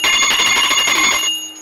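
A small brass puja hand bell rung continuously during a home Krishna birth celebration with a 56-dish food offering, its bright metallic ringing loud and close for over a second before stopping and leaving a faint lingering tone.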